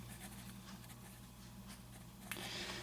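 A pen writing notes on paper at a work desk, giving soft, continuous scratchy strokes over a low steady hum, with a brief louder scrape near the end.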